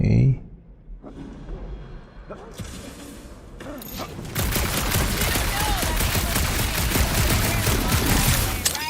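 Game gunfire in Marvel's Guardians of the Galaxy, a loud, dense barrage of shots and impacts building into a sustained roar in the second half, with character voices over it.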